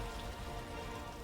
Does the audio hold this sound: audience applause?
no